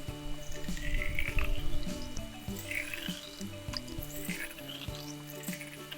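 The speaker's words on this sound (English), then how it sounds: "So now I just have some tap water from inside. I'm going to fill them up most of the way full" Tap water runs and splashes into small containers for a flushing test of toilet paper, flushable wipes and paper towels, a steady close pour with drips and liquid gurgles throughout.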